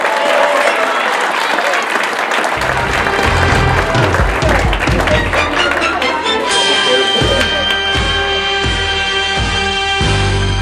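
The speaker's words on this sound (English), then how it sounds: "Please give him a round of applause." An audience at a sports awards ceremony breaks into a sustained round of applause, dense clapping that fills the room and grows busier toward the end, with crowd noise mixed in.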